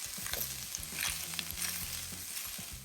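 Onion, tomato and greens fry in a kadai, a bright steady sizzle with a few light utensil scrapes and a low hum underneath, brief and close, no talking.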